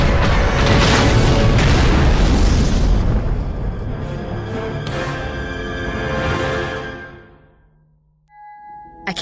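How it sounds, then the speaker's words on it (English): A yacht belonging to Goto blows up in a Star Wars video game, a loud sustained booming explosion with rumbling debris that rolls on for several seconds before fading, then a brief tonal electronic hum near the end. "I can't believe we just blew up Goto's yacht."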